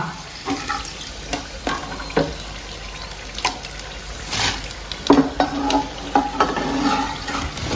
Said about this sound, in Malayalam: ഇനി നമുക്ക് ബാക്കി കൂടി ഇതുപോലെ വറുത്തെടുക്കാം.